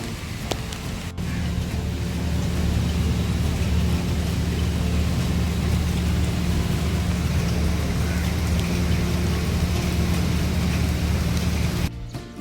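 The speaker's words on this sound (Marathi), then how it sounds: "पाऊस आला" Monsoon rain during the Shravan season pours down steadily, a dense even downpour that stays loud and unbroken throughout.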